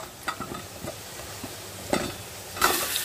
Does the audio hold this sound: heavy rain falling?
no